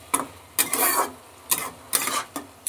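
Spices and prawns being stirred in a frying pan, made with mustard and poppy seed paste: four or five separate scraping strokes, close and moderately loud, with quiet gaps between them.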